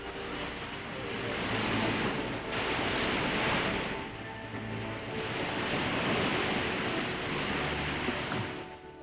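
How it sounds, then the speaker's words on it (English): Ocean surf surges and crashes against the rocks at Thunder Hole on the Maine shoreline in a continuous loud roar that swells and eases, mixed with gusty wind noise on the microphone. "At Popular Thunder Hole, waves assail the rocks with surging strength."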